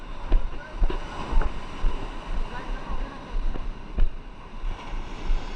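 Ocean surf rolls onto a Philippine shoreline during shore-cast fishing, a continuous broad wash of breaking waves with low wind buffeting against the microphone throughout.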